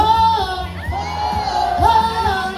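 A studio audience at a live outdoor variety show shouts loudly in unison on cue, a sustained, close group yell of many voices.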